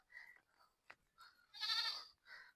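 A goat bleats several times nearby, the calls separated by short pauses, with one long, loud bleat in the middle.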